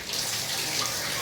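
A bathroom tap in a newly renovated apartment runs with strong pressure, a steady close hiss of flowing water with no talking over it.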